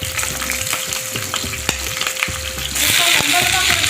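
Potatoes cut into long strips fry in a pan with cumin, a steady close sizzle broken by scraping stirs and clinks, then a louder surge of crackling hiss near the end.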